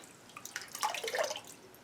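Water drips and trickles from a wig as it is washed in a sink, a faint, close patter of scattered drops over about two seconds.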